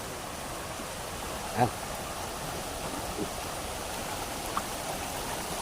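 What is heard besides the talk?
creek water flowing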